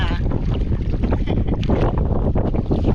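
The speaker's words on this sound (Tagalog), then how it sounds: "Sumpang kami sa hangin. Malakas po ang habagat." Strong monsoon wind roars continuously across the microphone over rushing water and a boat's steady rumble at sea, loud and buffeting throughout.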